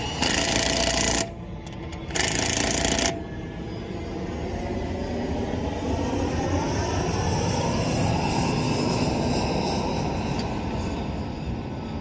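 A power tool tightens the wheel lug nuts on a Land Rover Defender while changing a flat tyre, set low to avoid over-torquing: two short loud bursts, then a long steady rattling roar close by.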